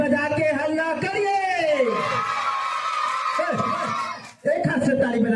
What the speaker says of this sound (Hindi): ताली बजा के हल्ला करिए।